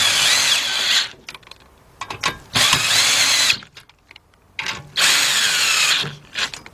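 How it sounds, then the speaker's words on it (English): A cordless impact gun tightening bolts on the intake manifold of a 2004 Chevy Monte Carlo 3.4 engine, three loud close bursts of rapid hammering rattle, each about a second long, with short quiet gaps between them. "there it is, our cordless gun. And go ahead and then tighten these up"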